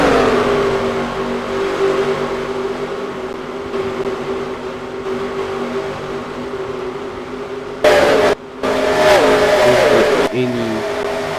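Race cars roar around the Dover oval in a chaotic race, a steady droning engine wail with a louder surge of cars passing near the end, under continuous commentary.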